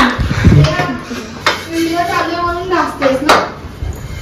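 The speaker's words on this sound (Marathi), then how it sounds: "आता स्नेहा भांडी घासते आपली." Household dishes are scrubbed by hand, with scattered clinks and knocks of metal utensils under a voice speaking nearby.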